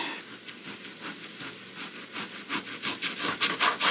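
Knife sawing through a slab of unsmoked pancetta on a board, heard as a steady rasping, rubbing stroke repeated close by, growing somewhat louder and choppier toward the end, with no talk.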